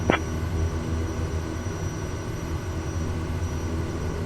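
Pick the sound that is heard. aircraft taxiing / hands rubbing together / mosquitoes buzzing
aircraft taxiing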